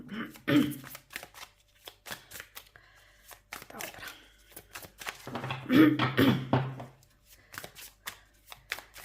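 Slippery tarot cards shuffled by hand in bursts of riffling and sliding, close by, with a person speaking in between and a throat clearing.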